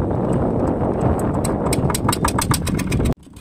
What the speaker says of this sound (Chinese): 然后把机器启动一下就差不多要过去拉网了